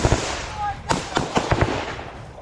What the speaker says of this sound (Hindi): कहीं जमीन पर लेटकर फायरिंग की जा रही है यूक्रेन के टारगेट पर।